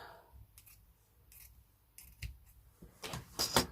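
Scissors snipping through fabric for a decorated journal cover, a few quiet crisp cuts that grow louder and quicker toward the end, close up with no talking.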